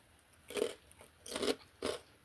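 Three separate crisp crunches as someone bites into and chews raw celery, close up with brief pauses between each bite and no talking.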